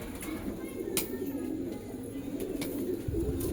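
A pigeon coos in low, soft, rolling murmurs that run steadily throughout, with a few faint higher clicks and chirps above.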